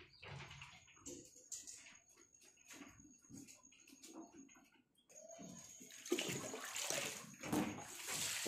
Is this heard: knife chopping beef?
no